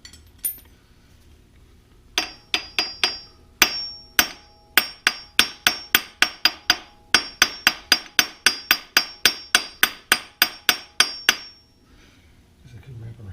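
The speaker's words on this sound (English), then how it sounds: "Guess I could wrap a rag around the hammer." A hammer strikes metal on a 1986 Toyota Camry during timing belt replacement, sharp ringing clanks in a steady rhythm, about two dozen blows with short pauses, close and loud.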